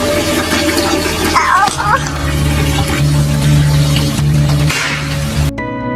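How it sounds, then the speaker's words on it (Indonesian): Water runs steadily from a tap left on, a continuous hiss and splash under a constant background hum, with a faint voice briefly over it partway through. "ia membiarkan keran tetap menyala"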